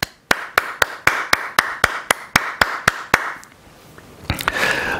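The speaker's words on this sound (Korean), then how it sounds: "박수를 드립니다." A church congregation claps for mothers on Mother's Day at a Korean Baptist church in Laurel, Maryland, with about a dozen sharp, evenly spaced claps that ring out clearly in the room, then give way to a softer, scattered patter of applause.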